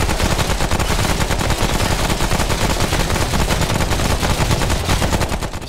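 Sustained automatic gunfire from a weapon in the video game Remnant from the Ashes, a dense, continuous rattle of rapid shots that stays loud and close for the whole stretch with no pauses.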